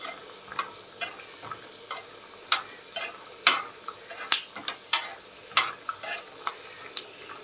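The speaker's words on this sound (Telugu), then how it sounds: "దాన్ని బాగా కచ్చాపచ్చగా చితగొట్టేసి లైట్గా వేపుకొని యాడ్" Crushed fresh ginger frying lightly in a pan for dal khichdi, giving a soft steady sizzle with repeated sharp stirring scrapes and clinks at an irregular rhythm, close and alone.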